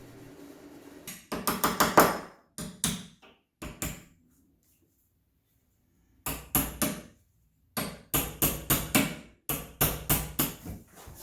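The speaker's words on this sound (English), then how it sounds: "This tile is really tough to drill through with brand new masonry bits as well" Masonry bits drill through hard shower tile in loud grinding, rattling bursts, two groups of several pulses separated by a quiet pause.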